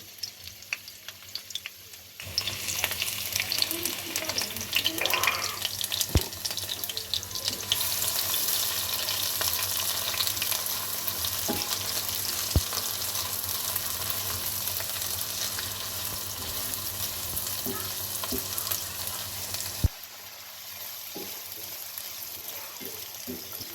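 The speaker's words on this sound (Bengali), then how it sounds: "পেঁয়াজ দিয়ে দিচ্ছি।" Onions sizzle in gas-heated oil while tehari is being cooked, a steady loud broadband hiss that starts suddenly after a quiet opening and runs on with occasional clinks of stirring, easing off near the end.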